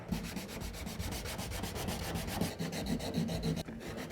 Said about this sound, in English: I think I'll give it a bit more sanding.